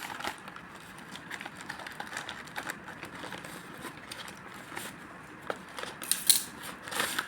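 Scissors snip through the plastic packaging of an online-ordered live plant delivery, a pack of five plants, giving quiet crackling cuts and rustles over light background noise, with a sharper burst of snipping near the end.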